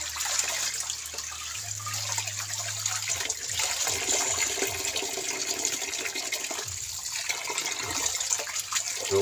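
Tiny dulong fish are washed in water, with continuous sloshing and running-water noise at close range and occasional low hums and pauses underneath.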